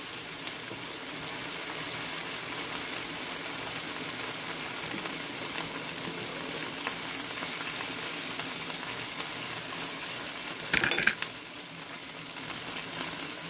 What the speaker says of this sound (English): I'm going to go ahead and give those a scramble